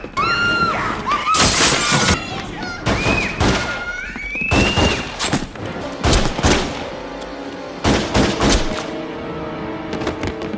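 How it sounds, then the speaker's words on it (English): Gunfire erupts inside a library in an action movie shootout with Russian gunmen, loud sharp bursts mixed with glass shattering and crashing debris, coming in rapid irregular clusters with a few brief tonal whines between them. "Suddenly, Russian gunmen arrive and open fire, turning the library into a battlefield."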